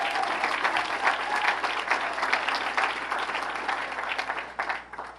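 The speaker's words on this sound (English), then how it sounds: "please a round of applause for our union brothers and sisters that are here today" Gala audience applauds union brothers and sisters, a full, steady round of clapping from a large crowd, loud and even throughout before fading slightly at the end.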